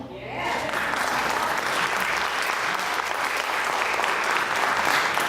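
Loud, dense audience applause at a debate event, swelling in within the first half second and holding steady throughout, close and full with no break.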